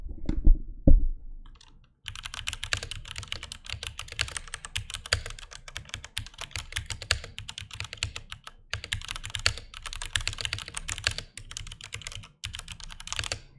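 Rapid, steady typing on an RGB wireless Cherry mechanical keyboard, crisp close clicks in a dense stream after a couple of opening knocks, with brief pauses between bursts.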